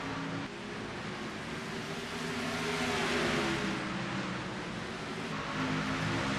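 Race cars drone steadily on a track in a chase-round race, a continuous engine roar that builds slightly toward the middle, heard alone without any voices.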